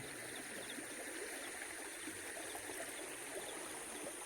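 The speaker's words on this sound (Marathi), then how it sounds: "अतिशय सुंदर असं हे नदीचं पात्र आहे. नदी पुढच्या ठिकाणी खूप खोल आहे" River water rushes steadily and evenly, a constant close babble with no voices or breaks, at a river near the Unhavare hot water springs.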